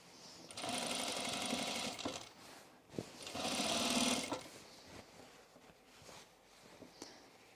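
A sewing machine edge stitches overalls in two sustained runs of rapid, steady whirring, close by, separated by short pauses and a few clicks; no one speaks.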